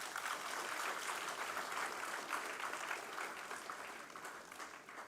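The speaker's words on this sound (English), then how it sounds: "Big round of applause." Audience clapping at a Bureau of Indian Standards youth quality training program, a continuous, fairly faint round of applause holding steady for several seconds.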